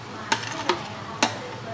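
Corn, lotus seeds, lotus root and mushrooms go into a pot of boiling soup broth, landing as three separate sharp clunks and splashes over a low simmering background.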